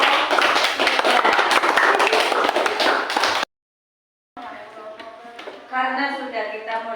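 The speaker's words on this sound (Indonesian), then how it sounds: "Tepuk tangan buat" A group clapping hands together in a classroom, a loud dense burst that cuts off abruptly, followed after a brief silence by people talking.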